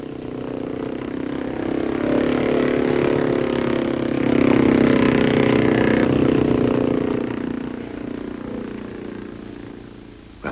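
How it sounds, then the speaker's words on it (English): A speedboat engine running steadily, a droning mid-pitched motor hum that swells louder through the middle, then eases off slightly, with no talking. "Have you ever heard the sound of a speedboat engine?"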